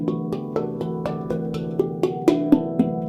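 Muted handpan notes struck in a steady rhythm, roughly every quarter second, each a short damped tone with a percussive attack and a slightly gamelan-like metallic texture, played alone at moderate loudness.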